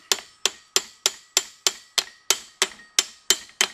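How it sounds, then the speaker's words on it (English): A dozen quick, evenly spaced metallic strikes of a hammer on a nut of a John Deere 7510 MFWD clutch assembly, each with a bright clang and brief ring, close and steady. "I'm going to give it a couple whacks with the hammer to start tightening it up"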